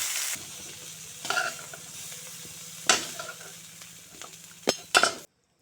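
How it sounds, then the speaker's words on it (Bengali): Cauliflower and potato with turmeric and salt sizzle steadily in hot oil in a pan, with occasional scraping clinks of a spatula stirring, fairly close and without talk. "সামান্য হলুদ গুঁড়া আর সামান্য লবণ দিয়ে ফুলকপি আলু একসঙ্গে বেজে নিচ্ছি"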